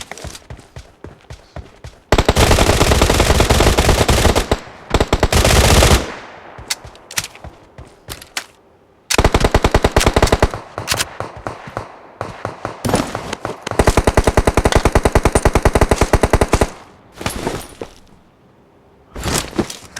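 Loud, sustained automatic gunfire in a shooter video game while fighting a bot, long crackling bursts separated by brief pauses, close and dominant with no voices heard.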